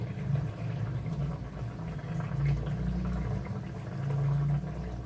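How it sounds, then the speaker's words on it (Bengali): Boal fish curry gravy bubbles at a low, steady simmer in a pot, with a soft, continuous bubbling and gurgling that stays faint throughout. "ঝোল ফুটে উঠেছে,"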